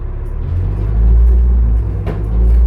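A 2005 New Flyer D40LF transit bus engine runs loud and close, a deep rumbling drone that swells slightly midway, with a brief sharper clatter near the end.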